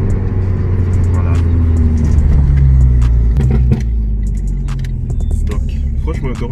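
An Abarth 695 Limited Edition Stage 3 drives along with a steady, loud engine rumble that stays close throughout, and voices talk over the drone.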